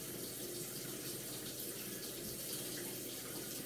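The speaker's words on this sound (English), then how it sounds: "I'm gonna add some more water as well." Steady running water from a tap, added while lathering shaving cream with a brush during a wet shave, a continuous close hiss with no pauses and no talking.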